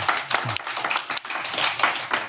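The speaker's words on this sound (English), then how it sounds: "Let's give Garrett a round of applause, you guys" A small audience claps for a participant in a sales and marketing session, uneven close hand claps of a few people, fairly loud and brief.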